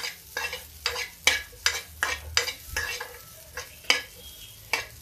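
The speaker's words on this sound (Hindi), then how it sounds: "धीमी आंच पे इसको भी गोल्डन ब्राउन हम भून लेते हैं" Soya badi (soy chunks) roasting with kasuri methi on a low flame, stirred in a rhythmic run of about a dozen distinct scraping strokes over a soft, steady sizzle, close and fairly loud, with no voices.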